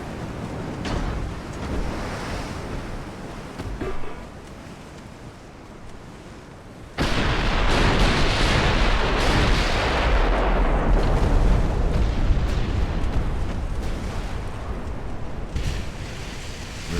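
Naval artillery booms in the Ultimate Admiral: Dreadnoughts warship game set in 1890, with muffled gun blasts and sea rumble at first, then a sudden loud roaring broadside that swells and rolls on for several seconds.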